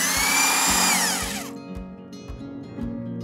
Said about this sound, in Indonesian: lubangi bagian tengah kopra menggunakan mesin bor dan solder